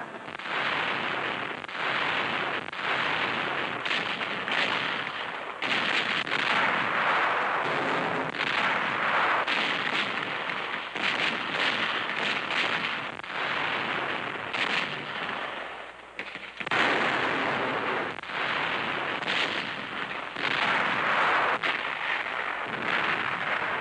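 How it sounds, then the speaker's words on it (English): Artillery guns emplaced in the hills open fire during a 1943 U.S. Army exercise, heard as a dense, rumbling barrage of booms and blasts over a continuous noisy background. "Guns, emplaced in the hills, open fire."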